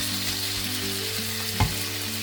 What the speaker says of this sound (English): I'm going to brown the beef until it's nice and golden brown